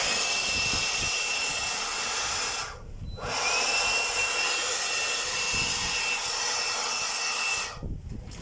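Repaired electric motor fitted with a new brush holder, running at speed setting 3: a loud, steady high-pitched whir that cuts out sharply twice, briefly near the middle and again near the end, with no talk over it.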